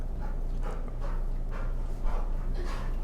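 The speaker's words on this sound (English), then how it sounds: "I don't know if y'all can hear my dog." A dog barking and whimpering in the background, with repeated muffled yelps and whines over a steady low hum.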